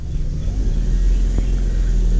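A 2008 Maruti Alto with over a lakh kilometres on it accelerates, its small engine giving a loud, steady low rumble from inside the cabin with a brief knock partway through.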